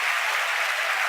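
A crowd at SpaceX headquarters in Hawthorne cheers and applauds for a recovered Falcon 9 first stage, giving a short, loud, dense burst of clapping that sounds fairly close.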